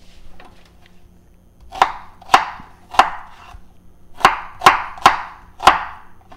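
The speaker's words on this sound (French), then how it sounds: "je coupe mes oignons de même" A knife chops onions on a cutting board, with seven sharp, distinct strokes in two uneven groups over a quiet background, close and clear, with no talk.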